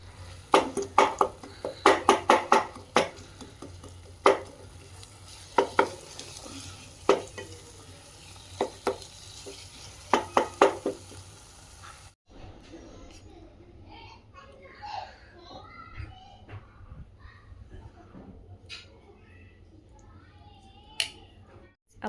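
Paneer bhurji with coriander cooking in a pan, with a run of sharp spatula scrapes and stirring taps against the pan followed by softer, quieter sizzling and occasional clinks.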